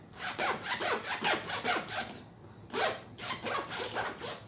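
A backpack zipper is pulled back and forth as a percussion instrument in quick rhythmic rasps, close and crisp, with a brief pause before the strokes resume.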